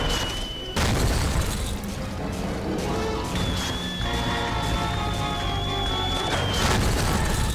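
A missile strikes in a Rayman Raving Rabbids boss fight, giving booming crashes near the start and again in the middle over dense game music and effects, with steady tones sounding between the hits.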